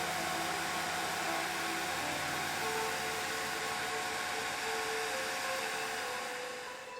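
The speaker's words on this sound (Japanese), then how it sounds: "これくらいになったらドライヤーでしっかりと乾かします。" A hair dryer blows steadily and loudly to dry a watercolor pencil drawing on paper, a continuous broadband whoosh with a faint motor hum, tapering slightly at the end.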